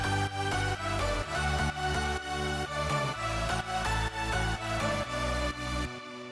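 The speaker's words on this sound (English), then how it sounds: "Now, all the basses combined with the drop synths sound like this." Full electronic dance drop, layered basses together with bright drop synths, dense and loud, pumping rhythmically with sidechain and cutting off abruptly near the end, no voices.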